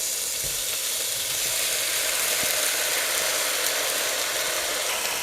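Shrimp frying in avocado oil in a hot pan for restaurant-style shrimp lo mein, a loud, steady sizzle that holds evenly throughout with a couple of faint knocks, no voices.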